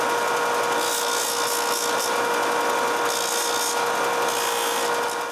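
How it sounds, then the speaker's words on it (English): A power tool chamfers the ends of wooden dowels, giving a steady, loud, high-pitched whine with a constant tone that runs unbroken throughout, with a few brief surges of rasping bite against the wood. "I also chamfer all the dowels."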